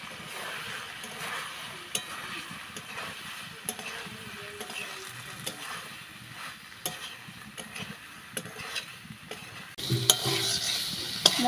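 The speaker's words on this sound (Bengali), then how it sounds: "দিয়ে দেবো ভেজে রাখা আলু আর সয়াবিন। ভালো করে কষিয়ে নেব।" Fried potatoes and soybean chunks sautéed in a spice paste, a quiet continuous sizzle with repeated scraping and clinking of a spatula stirring in the pan, growing louder near the end.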